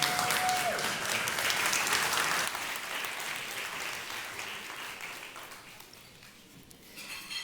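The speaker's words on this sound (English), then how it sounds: "Round of applause." Crowd applause welcoming a moderator at a food panel conversation, a sustained wash of clapping that gradually thins and fades toward the end, heard without talk.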